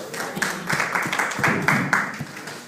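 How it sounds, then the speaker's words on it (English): A crowd gives a guest speaker a round of applause, with uneven bursts of clapping at moderate volume and some voices mixed in. "can we give him a round of applause?"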